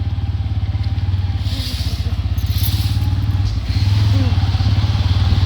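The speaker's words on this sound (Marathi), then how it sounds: "आम्ही चाललोय बाईक वरती" A motorcycle rides along steadily with a constant low engine drone and wind rush throughout, its loudness rising slightly in the second half.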